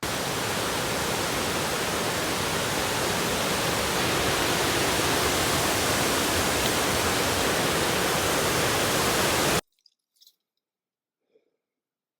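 Temperance River rushing loudly past rocks beside the Superior Hiking Trail, a dense, steady roar of water that fills the first nine and a half seconds and then cuts off abruptly, leaving near silence with a few faint ticks.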